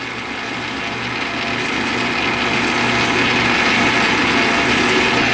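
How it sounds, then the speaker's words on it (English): A metal 26650-to-18650 battery adapter is deburred by hand, giving a steady, continuous scraping and grinding. The rasp is loud and close and runs without a break for the whole stretch, with no voices. "We're going to deburr that. It's important to deburr or your cell ain't going to fit."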